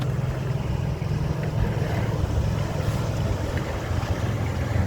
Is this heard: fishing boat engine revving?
yes